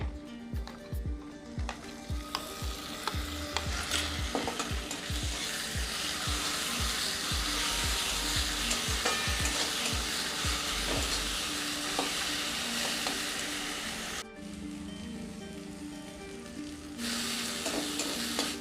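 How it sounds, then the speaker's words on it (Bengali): Onion fries with ginger, garlic and green chilli paste for a Bengali egg curry, making a loud continuous sizzle over rapid clattering stirring that later settles into a smoother hiss. "পেঁয়াজটাকে হালকা বাদামি রং করে ভেজে নেব।"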